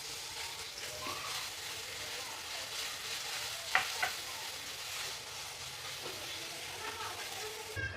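Ginger garlic paste fries in a pan with a steady, dense sizzle and hiss the whole way through. A couple of brief utensil scrapes or clinks cut through near the middle.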